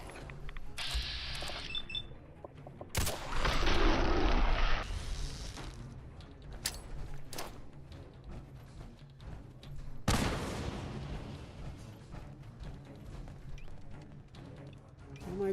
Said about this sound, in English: Why am I just throwing plasma grenades all of a sudden?